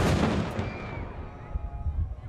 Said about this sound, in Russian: Пушка на Петропавловской крепости стреляет в честь открытия 16-го книжного салона.